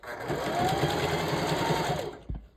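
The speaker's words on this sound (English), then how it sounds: "the sewing machine to do the work and drag it out of your hand" A sewing machine stitching hair tracks onto a mesh dome cap runs in one steady, close whir for about two seconds, then stops with a short thump.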